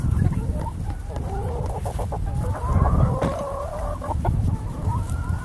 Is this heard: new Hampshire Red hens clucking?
yes